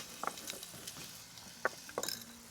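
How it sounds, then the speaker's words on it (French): Flour and mustard being stirred into hot pork fat in a pan, faint sizzling under soft scraping and a few brief clinks of a utensil. "Et là, je vais remuer ça en cuisant pendant 1 minute."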